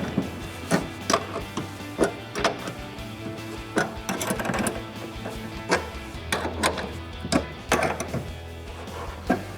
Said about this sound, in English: Then we're gonna take our supplied wrench and tighten both our clamps down.